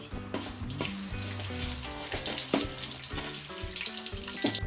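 Dried red chillies, crushed garlic cloves and asafoetida sizzle steadily in hot oil for tomato pickle, a close, continuous crackling fry with faint clinks of stirring.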